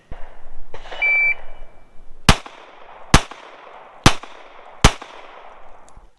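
An electronic shot timer beep sounds, then four loud, sharp gunshots ring out at even intervals of about a second during a timed drill at a shooting range.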